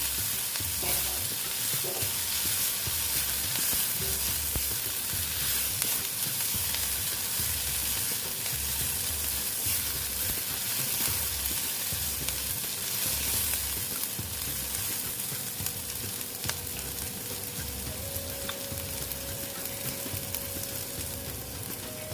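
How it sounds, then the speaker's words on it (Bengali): Grated ginger and onion fry in a pan, sizzling loudly and constantly up close while a spoon stirs them with a busy, continuous scraping rhythm throughout. "আদাটা আমি গ্রেট করে নিয়েছি নিয়ে আদা আর পেঁয়াজটা আমি ভালো মতো ভেজে নিচ্ছি"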